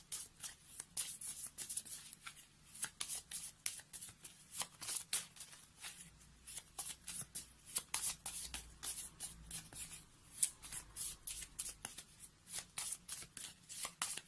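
Oracle cards being shuffled by hand, a quiet, close series of crisp riffling flutters repeating in quick irregular bursts throughout, with no talking.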